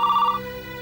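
A telephone rings indoors with a bright, steady electronic tone for under half a second, then cuts off, leaving a low room hum.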